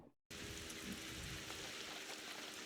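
Rain in a scene from the 2002 film 28 Days Later: a brief silence, then a steady, dense hiss of rainfall on surfaces that continues evenly throughout, with no voices.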